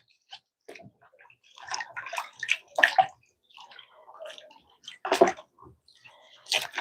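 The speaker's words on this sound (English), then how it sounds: "After washing the onions" Onions washed by hand in water at home, with irregular splashes, swishes and drips that come in short, close bursts separated by quiet gaps.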